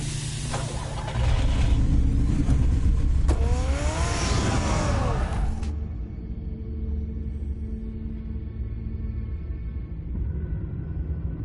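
A car in Batman: The Telltale Series starting up and revving loudly before pulling away, the roar fading into a low rumble and quieter hum.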